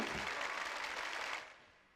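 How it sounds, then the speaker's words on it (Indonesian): Audience at a singing competition semi-final applauds loudly with dense, steady clapping that cuts off and fades away in the final half second. "Tepuk tangan Kang Odeni."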